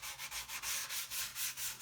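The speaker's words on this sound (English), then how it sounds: "What I'm going to do is just lightly sand the surface." Light sanding of a guitar body surface with 320 grit paper on a hard sanding block, a close, soft hissing rasp in even back-and-forth strokes, about eight strokes at a steady rhythm.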